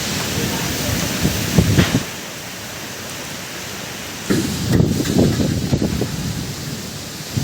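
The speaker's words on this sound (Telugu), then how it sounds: "పశ్చిమ గోదావరి జిల్లా భీమవరంలో ఉదయం నుంచి కుండపోతగా వర్షం కురుస్తోంది." Heavy unseasonal rain pours down in Bhimavaram, West Godavari, a dense, steady roar of downpour with louder splashing bursts and gusty rumbles, and no talk.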